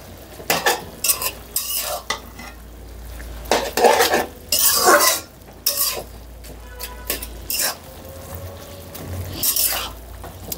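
A utensil repeatedly stirs and mashes wilted bathua greens in a pan over a low-to-medium flame, producing loud scraping strokes in uneven bursts with a soft sizzle beneath.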